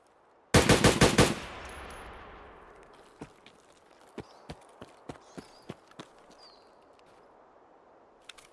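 In a first-person shooter, an opening rapid burst of loud gunfire rings out and fades into a reverberant tail. Scattered single, sharp shots follow at irregular intervals, quieter and spaced apart.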